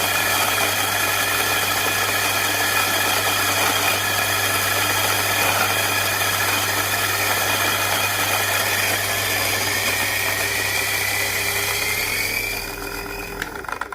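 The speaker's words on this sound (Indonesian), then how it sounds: "Saya giling halus." Electric grinder finely grinding a coffee blend: a loud, continuous whirring drone that holds steady for about twelve seconds before winding down near the end.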